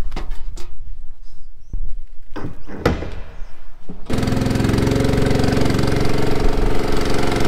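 A farm loader's engine starts after a few metallic door clunks and cab knocks, settling into a loud, close diesel rumble that runs steadily to the end.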